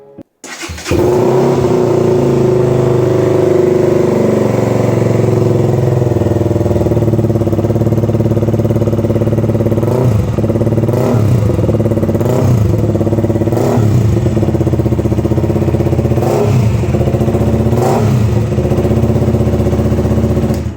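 A KTM Duke 125 motorcycle fitted with a replacement exhaust, with the debug killer in place, starts up and idles steadily up close, then is revved sharply several times in quick bursts, each rev rising and falling back to idle.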